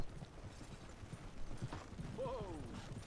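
Horses' hooves clip-clop in a steady rhythm at a ranch on a cowboy evening, with a short whinny near the end and voices in the background.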